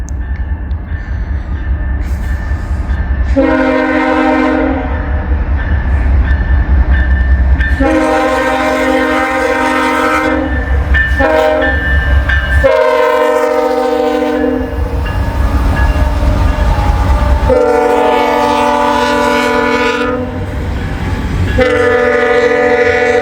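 A freight train bound for Tampa, Florida rumbles past with heavy rolling noise and wheel clatter while its horn sounds several long loud blasts in a repeated pattern, close and dominant.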